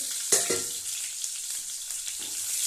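Onions hit hot oil in a pan for a noodle dish, a sharp sizzle bursting out at the start and settling into a steady, close frying hiss with a few light stirring scrapes.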